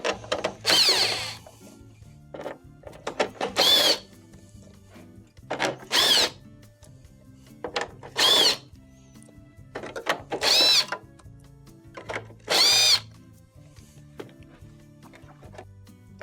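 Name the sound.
power drill removing 1/4-inch screws from a GE dryer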